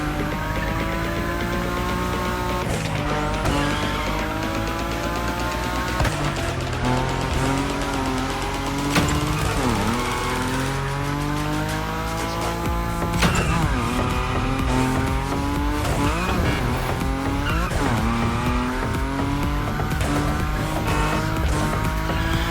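A Nissan Nismo drifts at high speed in The Crew Motorfest racing game, its engine revving and shifting pitch while tires squeal through long slides, loud and continuous with brief gear changes.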